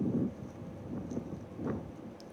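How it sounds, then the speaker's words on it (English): Wind buffets a camera microphone outdoors, a steady low rumble with soft gusting swells that rise and fall, fairly faint and with no voices. "It's not a problem that people know that it's windy. They can hear it, but it doesn't need to be annoying."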